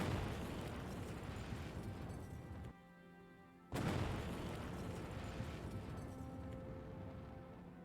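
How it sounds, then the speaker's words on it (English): Atomic bomb explosion in the strategy video game Hearts of Iron IV, a sustained, rumbling roar that briefly drops away and then returns as a loud, broad blast that slowly fades. "Cuba has been atomically bombed."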